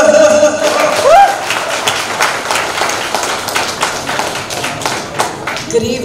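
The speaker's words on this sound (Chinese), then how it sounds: "接下来我们用最热烈的掌声欢迎我们获主州长支持" Applause and clapping from a dinner audience rise in a dense, steady wash at a gala banquet, continuing throughout with scattered taps and thumps.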